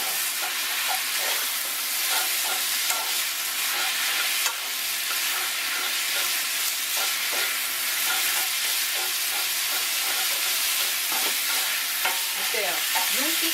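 Japchae glass noodles with vegetables are stir-fried in a hot pan, a loud continuous sizzle and hiss with occasional utensil scrapes and tosses, close by, with no voices.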